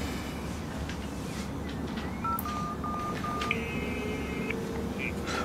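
Telephone being dialed, a short run of electronic keypad tones followed by a longer steady tone, heard over a constant background rumble with no talking.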